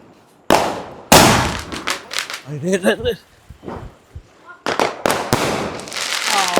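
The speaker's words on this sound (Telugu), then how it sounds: "రెండు సార్లు పేలినట్టుంది ఇక్కడ ఒక సౌండ్ వచ్చింది" Two sharp Diwali firecracker bursts, close and loud, the first around half a second in and a second right after, with crackling and voices chattering in between.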